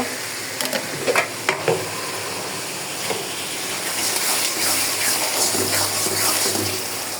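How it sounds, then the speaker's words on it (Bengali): Ginger and garlic paste with whole spices frying in a pan while being stirred for a Bengali chicken curry, a steady sizzle with scraping stirs and a few sharp knocks of the spoon, close by with no talking. "আদা বাটা, রসুন বাটা অ্যাড করব। সম্পূর্ণ মশলা অ্যাড করলাম। ভালো করে মশলাগুলো কষাই নেব।"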